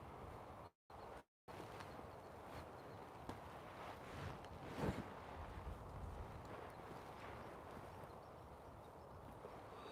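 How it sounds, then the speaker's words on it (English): Strong outdoor wind during a Thanksgiving hunt, a steady broadband roar and buffeting that fills the whole clip with gusty swells and no speech, interrupted by two brief dropouts near the start. "God, this wind is brutal today."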